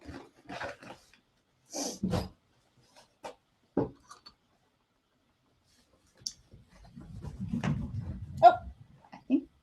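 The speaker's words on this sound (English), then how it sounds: "a puppy just like ran right by us in the hallway" A puppy dashing past in a hallway, heard as scattered light taps and brief doggy noises, then a closer rustling, scrabbling burst toward the end, with quiet gaps between.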